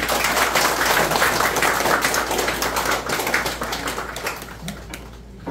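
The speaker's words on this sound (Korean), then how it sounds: "큰 박수와 함께 시작하겠습니다" Loud, dense applause opens the 30th anniversary ceremony of a Seoul youth meditation society, a steady crowd of clapping hands with no talk over it, gradually thinning toward the end.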